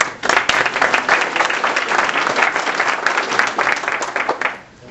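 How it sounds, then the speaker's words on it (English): Attendees at a Hispanic political organization's panel event give the panelists a lively round of applause, with dense, close clapping that holds steady before quickly dying away at the end. "Round of applause for all our panelists."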